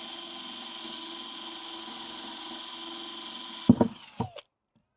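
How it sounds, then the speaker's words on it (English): A power drill boring planting holes in the ground for strawberries, a steady whirring hum that stops abruptly and is followed by a few brief knocks and scrapes, close and fairly quiet. "So you just drill holes like this."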